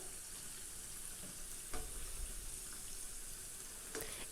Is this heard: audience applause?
no